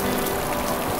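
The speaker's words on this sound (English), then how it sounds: "God, is it raining? I hadn't noticed." Steady rain patters continuously on a surface, a dense even hiss with faint droplet texture throughout and no voices.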